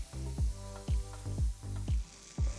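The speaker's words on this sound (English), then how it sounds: "I'm gonna add some butter for that sizzle." Butter sizzling and hissing in a hot cast iron fajita pan, in repeated loud bursts of crackle against a steady frying hiss.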